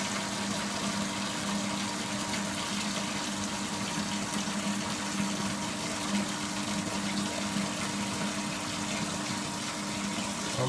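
A pump in a homebrew HERMS system pushes water into a bucket, giving a steady, continuous rush and gush of filling water with a low pump hum underneath, unchanging for the whole stretch.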